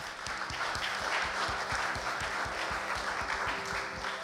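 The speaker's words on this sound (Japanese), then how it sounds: "神様、大きな拍手しましょう。" A church congregation applauding after a prayer, steady dense clapping from a full room that continues evenly throughout, fairly loud and close, with a low background hum.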